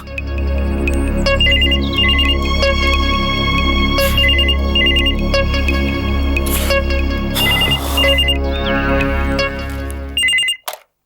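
A telephone rings repeatedly with a bright electronic ringtone, loud and close, in a steady repeating pattern alone over a low background hum before cutting off abruptly at the end.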